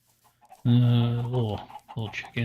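Chickens in a Minecraft chicken cooker farm give one long, loud squawk followed by a couple of shorter clucks, close by and standing alone.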